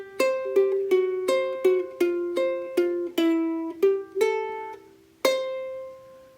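A ukulele plays a short yodel lick: about a dozen crisp plucked notes bouncing between two strings in a quick, even rhythm, ending on one ringing note, close and clear with no voice.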